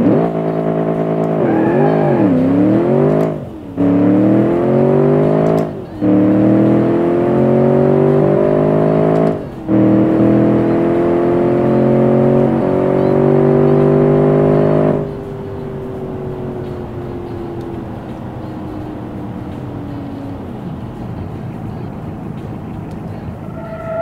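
Ghost XR8TT car engine in the Automation video game accelerating through a quarter mile run, loud revving climbing repeatedly through the gears with brief dips at each shift, then easing off and fading.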